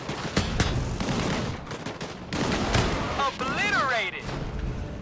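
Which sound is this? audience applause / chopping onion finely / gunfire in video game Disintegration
gunfire in video game Disintegration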